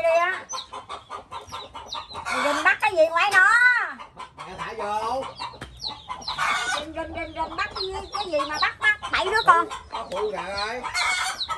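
Chickens cluck and squawk loudly at close range in repeated bursts across the whole stretch, mixed with people talking.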